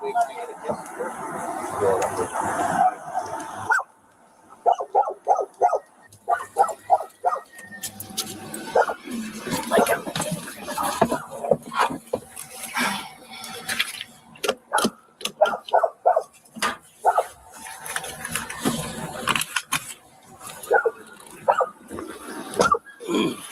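Puppies bark and yip in quick, sharp bursts, close by and intermittent, with whimpers between, while people talk over and around them.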